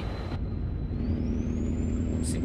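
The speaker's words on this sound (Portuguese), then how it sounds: "Tá vindo um carro aí." A car approaches in Euro Truck Simulator 2 under the low steady rumble of a Scania 730 R truck cab, a thin whine rising in pitch as it nears, with a brief hiss near the end.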